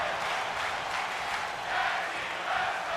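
Steady wall of crowd noise from a WWE 2K25 wrestling arena during a tag team match, a broad continuous roar that swells slightly in places, with no clear talk over it.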